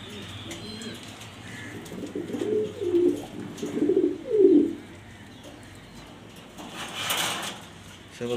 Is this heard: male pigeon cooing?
yes